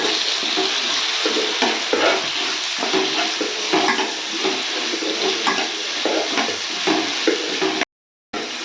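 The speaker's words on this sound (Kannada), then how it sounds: "ನಾನು ಟೊಮೊಟೊನು ಕಟ್ ಮಾಡಿ ಹಾಕೊತಾ ಇದ್ದೀನಿ ಇದು ಕೂಡ ಎಣ್ಣೆಯಲ್ಲಿ ಚೆನ್ನಾಗಿ ಫ್ರೈ ಮಾಡ್ಕೊತೀನಿ" Chopped tomatoes fry in hot oil for a paneer gravy, giving a steady close sizzle broken by scraping stirs, with a brief cut to silence near the end.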